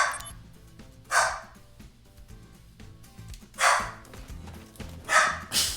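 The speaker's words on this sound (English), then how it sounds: "My dog has been activated." A pet dog barks in short separate bursts, three or four loud yelps spaced a couple of seconds apart, close by over steady video game music.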